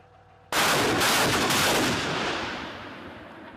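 Artillery fire on the Ukrainian front line: a single loud, sharp blast that erupts abruptly and then rolls off in a long, fading rumble lasting a few seconds.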